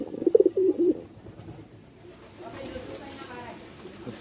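Pigeons in a loft give a short burst of soft cooing near the start, then faint shuffling and background murmur follow, with a person talking lightly nearby.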